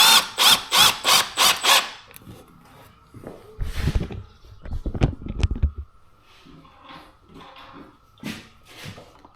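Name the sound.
power drill driving screws into window trim board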